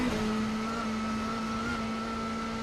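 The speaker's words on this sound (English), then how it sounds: "You can hear the engine note change, just lowers a bit slightly because the gradient" WTCC touring cars climbing a long uphill gradient at the Nürburgring race in Germany, steady loud engine drone holding a slightly lowered note, no talking over it.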